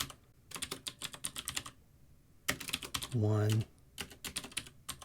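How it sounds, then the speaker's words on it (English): Rapid clicking bursts from a computer keyboard, several quick runs of keystrokes separated by pauses, close and crisp, with a short spoken word breaking in partway through. "now if I type heading"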